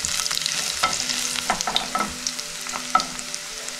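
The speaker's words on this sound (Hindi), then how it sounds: "अब ये लहसुन डालेंगे।" Grated garlic frying in a hot pan with oil, a steady sizzle broken by repeated scraping strokes of a spoon stirring it, close and fairly loud, with no talk.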